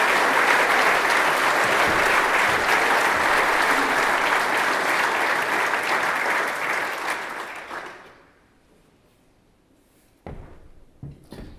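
Sustained applause from a lunch audience at a Chamber of Commerce event as General Sir Peter Wall is welcomed to the stage, loud and steady for about eight seconds before fading into quiet room murmur.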